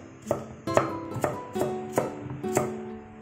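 A knife dicing pumpkin and carrot on a cutting board, six or seven crisp, evenly spaced chops with a woody knock, close and alone without talk.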